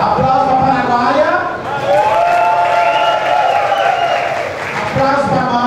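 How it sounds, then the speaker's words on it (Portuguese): An audience claps and cheers at a nightclub drag show at Blue Space, a loud, dense wash of crowd noise that runs continuously, with a voice or music carrying over it. "Aplausos para a paraguaia."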